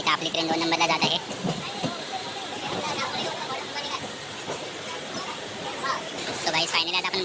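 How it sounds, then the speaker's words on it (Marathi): A suburban train near Virar runs through a station with a steady rolling rumble and faint rhythmic clatter, heard under ongoing speech. "आता इथं आपली ट्रेन 2 नंबरला जात आहे."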